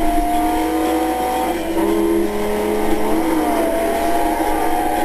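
A race car in Need for Speed: Most Wanted launches with nitrous in third gear, a loud, sustained engine roar with rising tonal whine and tire noise, steady throughout.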